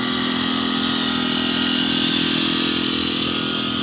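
Portable air conditioner powered by a generator in van life use, a steady loud engine drone with fan hum running continuously and close without pause or talk.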